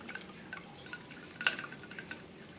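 Soft, steady trickle of aquarium water siphoning through a hose, with occasional small drips and gurgles standing out against a low, quiet background.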